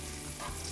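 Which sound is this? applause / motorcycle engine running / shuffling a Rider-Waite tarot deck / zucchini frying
zucchini frying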